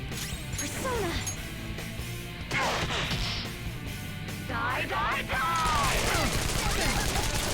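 Rapid bursts of gunfire and impacts in the Persona 5 Royal video game, loud and repeated over several seconds amid shouted battle cries and game effects.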